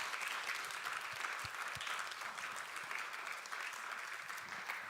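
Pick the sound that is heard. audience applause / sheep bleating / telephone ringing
audience applause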